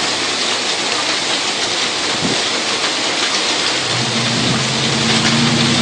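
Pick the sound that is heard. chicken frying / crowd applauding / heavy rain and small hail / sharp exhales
heavy rain and small hail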